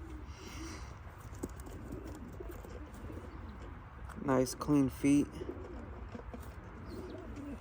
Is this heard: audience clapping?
no